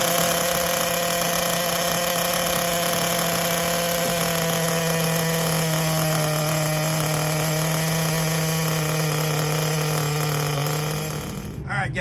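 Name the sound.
CEN Genesis nitro RC truck engine idling, first break-in tank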